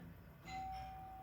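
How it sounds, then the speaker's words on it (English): A doorbell chimes once, a single steady sustained tone that rings out softly and alone over a quiet background hum. "Oops, that's a doorbell ringing."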